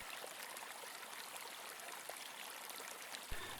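An aerator bubbles water in a pond, a faint, steady, hissing fizz of churning bubbles with a few soft splashes, continuous and unbroken.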